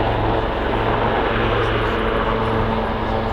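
A Royal Navy Wildcat helicopter flies an airshow display, a dense, steady engine and rotor roar that fills the air continuously at high volume.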